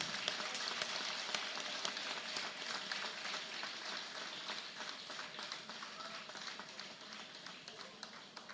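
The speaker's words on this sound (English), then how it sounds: "A big round of applause, girls." Applause from an audience of girls at a college felicitation ceremony, a dense steady patter of many hands clapping that holds at a fairly even level throughout.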